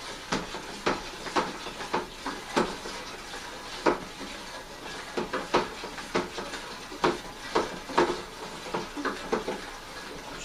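Wine sediment being stirred back up in a fermenter during secondary fermentation of a Vinoit wine kit, a steady wet swishing with repeated sloshing strokes and light clanks in an even rhythm, close and alone.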